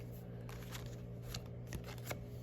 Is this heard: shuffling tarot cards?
yes